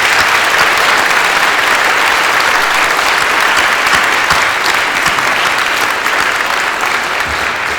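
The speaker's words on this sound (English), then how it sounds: "Let's give them a round of applause" Loud, dense applause from an evening audience honoring police officers and deputies, a sustained wash of many hands clapping close and steady for several seconds.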